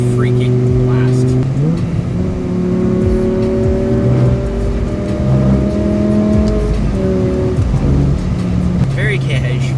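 A BMW M6 with a V10, showing 220,000 km, cruises through mountain roads on a rally, its engine droning with rising and falling tones as it shifts gears, steady and loud from inside the cabin.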